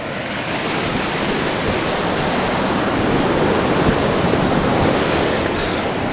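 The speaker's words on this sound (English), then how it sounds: "I'm actually going to move away from the waterfall just to talk you through it, because it's too loud here" A waterfall in heavy flow after rain roars as a loud, steady, broadband wash of water, close by and unbroken for the whole stretch, with no voices.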